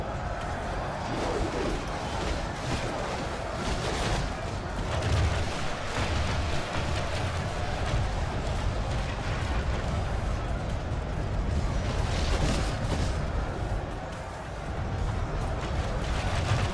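Volley fire from Dunedain Rangers in a fantasy strategy battle rumbles as a dense wash of distant shots and booms, layered over a constant roar of combat noise.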